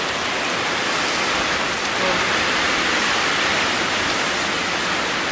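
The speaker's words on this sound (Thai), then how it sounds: "มีลมมีฝน" Steady, dense hiss of heavy storm rain pours continuously with a broad rushing wash of wind, loud and unbroken throughout.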